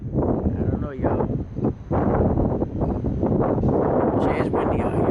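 Strong wind buffets the microphone outdoors in New Orleans at night, a loud, steady rumbling roar with muffled voices mixed in.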